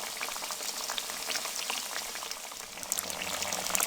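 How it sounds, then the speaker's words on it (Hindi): Chicken potato kababs fry in hot oil with a steady, close, hissing sizzle and scattered crackling pops throughout, with no talking. "बहुत अच्छे तरीके से फ्राई हो रही हैं"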